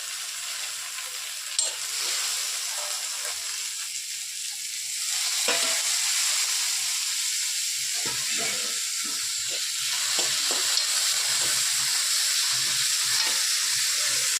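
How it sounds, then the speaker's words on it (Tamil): Curry leaves and tomatoes sautéing in a pan for a raw banana stir-fry, a steady close sizzle and hiss that swells a little partway through, punctuated by soft stirring scrapes, with no voices. "தக்காளியும் கொஞ்சம் நல்லா வதங்கட்டும்."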